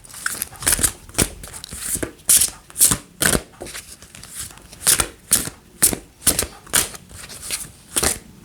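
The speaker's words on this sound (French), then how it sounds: "On va tirer la carte des fées" Fairy oracle cards are shuffled by hand in a quick series of crisp, riffling bursts, close and fairly loud, with brief pauses between each shuffle.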